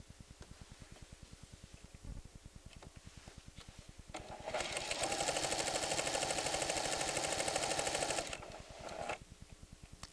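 A 1994 Pfaff creative 7550 sewing machine runs a straight stitch without Dualfeed. Soft rhythmic ticking gives way to a loud, steady whirring burst of stitching lasting about four seconds, then the ticking returns.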